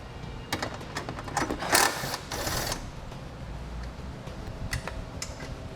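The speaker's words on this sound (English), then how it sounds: "Now we're going to remove the 10mm nuts on the side that hold it in place." A ratchet rapidly clicks while backing off 10mm nuts near a vehicle's base plate mounting area, a close, irregular mechanical ticking with brief louder bursts.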